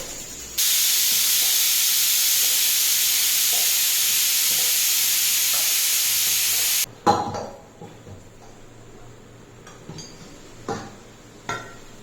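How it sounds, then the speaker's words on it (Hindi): Loud, steady hiss of cabbage roasting in a pan for about six seconds, cutting off abruptly, followed by quieter scattered clinks and kitchen clatter. "तो जब तक पत्ता गोभी भुना रहा है ना"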